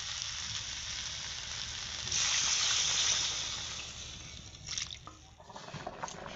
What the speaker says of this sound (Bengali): এবার আমি জল তুলে দেব।